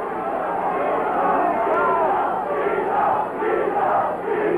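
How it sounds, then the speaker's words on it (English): Boxing crowd at a Nino Benvenuti versus Don Fullmer fight, a loud mass of chanting and shouting voices rising and falling in waves, continuous throughout. "And the crowd is chanting now for Nino to..."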